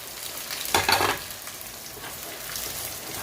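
Fenugreek seeds dropped into hot oil in a pan for mango pickle, a sudden burst of loud sizzling that settles into a steady quieter crackle and fry.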